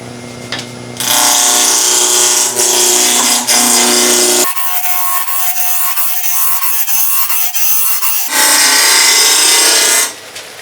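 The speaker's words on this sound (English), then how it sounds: "So I'm just going to use the roughing gouge again" A wood lathe spins a vase blank at about 2000 RPM while a roughing gouge cuts it. The loud, continuous cutting roar shifts tone partway through, then returns to a brighter, harsher scrape. No one speaks.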